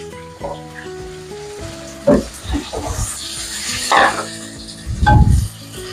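Beef sautéed in a pan gives a low sizzle with intermittent stirring scrapes and a louder hiss near the end, under a voice talking throughout.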